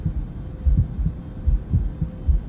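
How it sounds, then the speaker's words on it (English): A muffled heartbeat, low and thudding, in steady double beats repeating about every half second, with a soft hum underneath. "It was the beating of the old man's heart."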